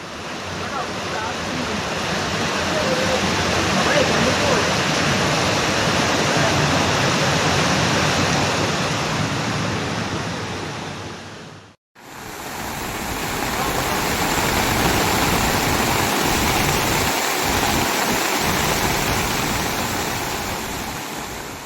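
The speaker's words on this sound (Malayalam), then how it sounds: "കരുവാരക്കുണ്ട് മലയോരത്തുണ്ടായ ശക്തമായ മഴയിൽ ഒലിപ്പുഴയിൽ മലവെള്ളപ്പാച്ചിൽ" Flash-flood torrent in the Olipuzha river after heavy rain in the Karuvarakundu hills, a loud, unbroken roar of rushing water that drops out briefly for an instant near the middle, then resumes.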